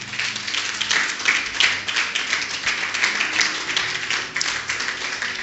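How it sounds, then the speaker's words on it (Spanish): A church congregation claps together, a sustained, even wash of applause filling the room for several seconds without pause. "Den un aplauso a Cristo"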